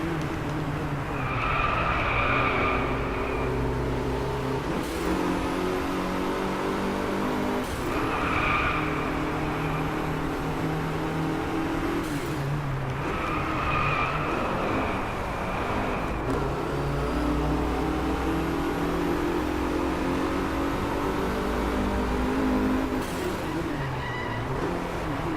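Mercedes race car in the racing game DRIVECLUB, its engine droning and shifting through gears with repeated rising revs and tyre squeals, loud and continuous up close.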